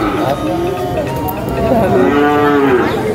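Water buffalo lowing at a livestock market in Sibalom, Antique, Philippines, a few overlapping moos near and farther off, with crowd chatter and market noise in the background.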